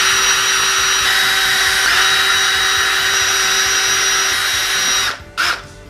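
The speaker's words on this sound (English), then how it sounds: "I'm going to drill 5 holes into it" A power drill bores a hole into a wooden stick, a loud steady high whine running continuously for about five seconds before stopping abruptly, followed by a brief final burst.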